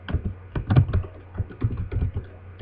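Quick, uneven bursts of clicking keys on a computer keyboard while code is written, close and crisp, with short pauses between clusters of keystrokes and no talking.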